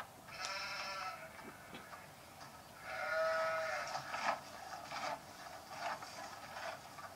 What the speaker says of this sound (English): Sheep's just right here.